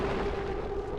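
Explosions rumble in the XCOM 2: War of the Chosen video game, a dense, continuous low boom with a steady tone over it, loud and sustained for about a second with no speech.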